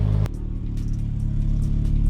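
A Mk2 Jetta engine idling steadily with a new exhaust, a low, even rumble with a slight tonal hum, close and continuous after a brief louder burst at the start.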